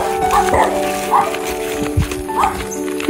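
A dog barks a few times in short yaps from nearby at an old house in the mountains, mixed with voices and outdoor background noise.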